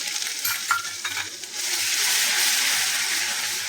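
Cumin, garam masala, asafoetida, ginger-chilli-garlic paste and curry leaves sizzling in hot oil as a tempering for a Kathiyawadi gathiya curry, a loud steady close sizzle with a few stirring clicks early on.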